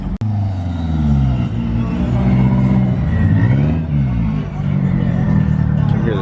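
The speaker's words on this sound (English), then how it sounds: "Can hear the turbo on that thing." A turbocharged car at a car meet revs and idles loudly and close, its engine note rising and falling steadily throughout, with voices talking over it.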